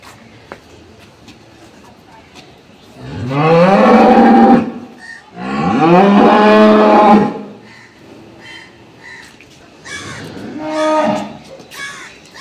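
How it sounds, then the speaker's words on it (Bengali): Dairy cow being led out at a high-quality milk cow farm in Nilphamari, lowing in three loud, drawn-out moos close by, the last one a little softer, with quiet farmyard background between them. "আমরা গরুটিকে বের করা দেখছি।"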